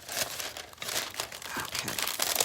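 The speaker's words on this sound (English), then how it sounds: "Wrap my foil around it." Aluminium foil being wrapped and crinkled around a cup, a close, continuous rustle with sharper crinkles throughout.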